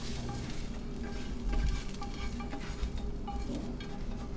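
Mushrooms sizzle and crackle in a hot frying pan for vegan mushroom dumplings, a steady dense hiss with occasional scrape of stirring, no talking.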